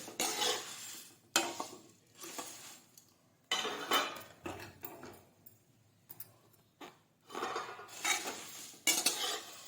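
Poha being roasted and turned in a kadhai, with bursts of metallic scraping and clinking from the spatula against the pan, separated by quieter gaps, close and moderately loud, no talk.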